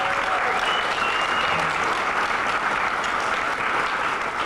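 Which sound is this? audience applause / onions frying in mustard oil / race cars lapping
audience applause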